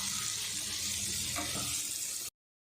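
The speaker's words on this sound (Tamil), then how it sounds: "லோ ஃப்ளேம்லேயே இதை ஃப்ரை பண்ணிக்கோ" An egg frying over a low flame gives a soft, steady sizzle close by that continues evenly, then cuts off abruptly near the end.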